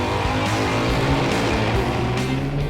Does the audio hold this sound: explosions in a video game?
no